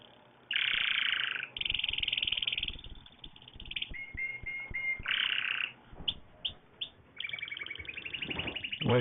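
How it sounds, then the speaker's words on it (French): Birdsong on a spring day: loud, repeated bright chirps and trilling bursts, some buzzy and electronic-sounding, filling the clip without pause and with no talk. "c'est pas parce que c'est pour une journée de printemps qu'on doit écouter les gazouilles"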